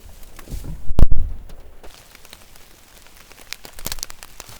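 Steady rain patters on the forest canopy and ground at a camp, with close, loud pops and taps of drops striking a poncho or nearby surface throughout.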